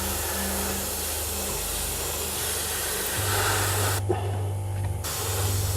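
Airbrush spray painting a scale model with some overspray, a continuous close hiss of air and paint with a low motor hum underneath, a brief pause around the middle, and no speech.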